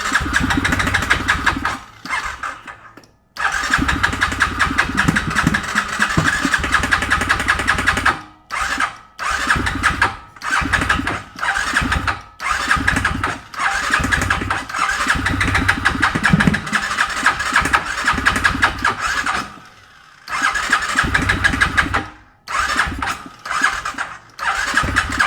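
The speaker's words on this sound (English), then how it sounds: "I hear that crank noise." A broken ATV or dirt bike engine cranks over and over in loud, close bursts, each whirring attempt cut by short silent pauses, with a brief sputter and squeal now and then and no talking.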